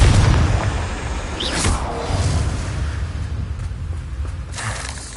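Bombarda and Confringo blast spells go off in a Hogwarts Legacy battle, a heavy boom at the start followed by rolling rumble, whooshes and scattered crashes that fade over several seconds.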